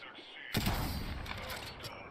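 Video game gunfire breaks out suddenly and sharply close by, a dense burst of rapid shots followed by a rattling volley that tails off over a couple of seconds.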